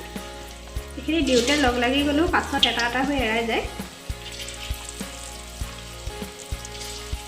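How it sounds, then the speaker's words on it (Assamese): Potato pakoras frying in oil over a low flame give a steady, close sizzle, with a voice talking over the middle few seconds before the frying carries on alone. "জুইটো কম ফ্লেমত ৰাখি ভাজিব লাগে"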